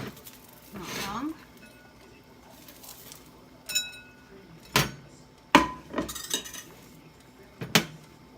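A knife chopping a cooked egg in a bowl, several sharp clinks and taps of metal on the dish, spaced irregularly near the end, faint bird cooing in the background.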